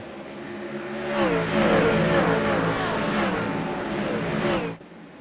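A field of GT3 race cars roars off the line together at a 32-lap race start in a racing video game at the Okayama circuit, loud layered engines revving and rising in pitch, then cutting off abruptly near the end.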